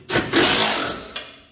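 A wrench tightening the nuts on a snowblower shoe, two short close ratcheting scrapes in quick succession, loud and alone.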